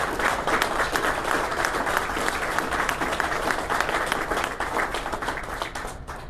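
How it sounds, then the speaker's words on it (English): An audience at a foundation announcement breaks into sustained applause, dense continuous clapping heard alone that holds steady for several seconds before easing slightly at the end. "give a round of applause to these"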